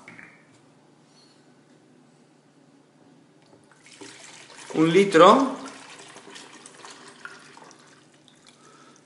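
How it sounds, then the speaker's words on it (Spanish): Hot water pours onto Ganoderma coffee, a brief louder splash of liquid rising midway through, while someone talks over it. "Entonces vamos a echar el agua."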